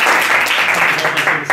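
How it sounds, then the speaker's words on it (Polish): Lecture audience clapping steadily throughout, a dense crowd of hands at fairly close range, loud and continuous with no speech over it. "Myślę, że jak najbardziej brawa to będą jeszcze."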